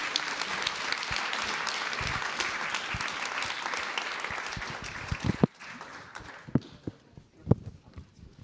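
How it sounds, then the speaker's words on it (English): An audience at a panel discussion applauds the panelists, with dense sustained clapping that thins into a few scattered, louder claps near the end. "a big round of applause"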